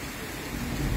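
Heavy monsoon rain pours down steadily as a dense, close hiss that swells slightly louder toward the end, with a low rumble underneath.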